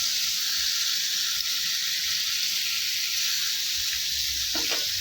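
Tandoori chicken pieces frying in oil in a pan, a steady, dense sizzle and hiss running throughout, loud and close, with a brief clatter near the end.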